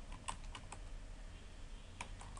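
Typing on a computer keyboard while writing Java code, a quiet close run of irregular key clicks with a few sharper taps, heard alone without speech.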